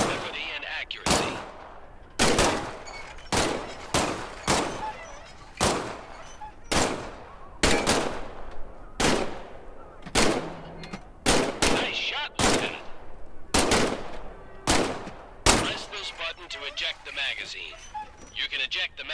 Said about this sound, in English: Squeeze the trigger to fire.